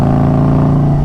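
A Harley-Davidson Road Glide with a Stage 2 build and Khrome Werks Outlaw exhaust roaring at full throttle in a second-gear launch, a loud, sustained deep engine drone with no talk.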